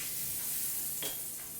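Melted butter sizzles on a hot waffle iron as a steady, soft crackling hiss. A brief scrape or stir sounds midway through.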